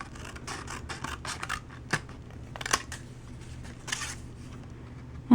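Scissors cut through paper for a party flag banner, close and quiet, giving a run of rhythmic crisp snips and rustling with a few sharper clicks from the blades.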